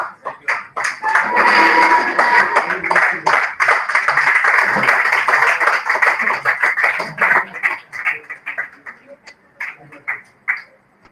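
Audience clapping at an honoring ceremony during an entrepreneurship and innovation event, a dense burst of applause that swells, holds steadily, then thins into scattered claps toward the end.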